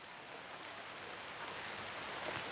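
Rain falling in a dense, steady hiss, faint and uniform with no distinct drops or other sounds.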